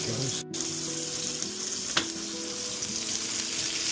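Two burger patties sizzle in a frying pan, a steady broadband hiss from start to finish with one brief louder crackle near the middle and a low hum underneath; no one speaks.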